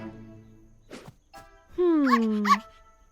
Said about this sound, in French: un des chiots a suivi Buster dehors.